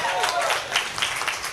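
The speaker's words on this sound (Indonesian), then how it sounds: "Tepuk tangan dulu." Audience at a stand-up comedy show in Manado clapping and applauding, a dense burst of close hand claps that continues steadily for the whole moment.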